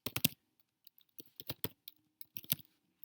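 Typing on a computer keyboard, quiet and close, with irregular bursts of sharp key clicks separated by short pauses.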